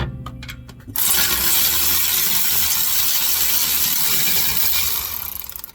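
A bolt comes out of a seized left rear wheel bearing and plate assembly on a 2012 Kia Soul 2.0L. After a few quiet clicks, a loud, continuous mechanical rattling whir runs close for about five seconds, then cuts off.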